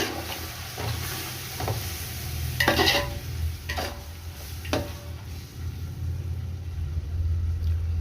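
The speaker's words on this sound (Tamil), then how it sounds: "இப்போ இதை நல்லா கொஞ்சம் எல்லாம் கலந்து விட்டுருவோம்" A spoon scrapes and swishes through a thick curd mixture for chicken biryani in a pot with irregular strokes, over a constant low rumbling hum of the stove.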